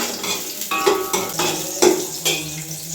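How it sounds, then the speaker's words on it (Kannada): Sliced onions frying in a pan for fish sambar, with a soft sizzle under repeated scraping and stirring strokes of a metal spoon against the pan, close and clear. "ಈರುಳ್ಳಿ ಫ್ರೈ ಮಾಡ್ತಾಯಿದ್ದೀನಿ"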